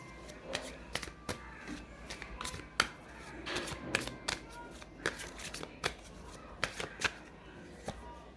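Tarot cards are drawn and handled up close, making quiet, repeated crisp flicks, slides and light snaps at an uneven rhythm against a hushed background.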